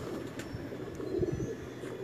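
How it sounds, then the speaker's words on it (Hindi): A pigeon coos softly a few times, low and faint against quiet background hum. "ये शफीक भाई का बहुत ही फेवरेट कबूतर है"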